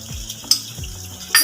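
Beef sizzling with ginger garlic paste in a pot while being stirred, a steady close fry with scraping spoon strokes against the metal and no voices.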